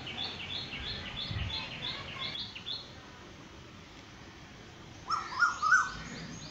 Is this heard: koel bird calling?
yes